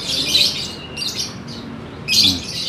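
Lovebirds and canaries in a bird shop give bright, high chirps and tweets in short clustered bursts, fairly close and clear over a quiet background with no talking.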